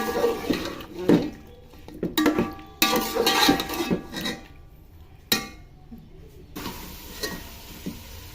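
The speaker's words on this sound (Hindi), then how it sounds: "चम्मच चलाते जाएं ताकि अच्छे से नमक जो है इसमें" A metal spoon stirs chicken with salt in a cooking pot, scraping and clinking against the pot in irregular knocks over a soft sizzle. The strikes sound close and fairly loud, separated by a few quieter pauses.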